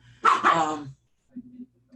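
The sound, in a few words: dogs barking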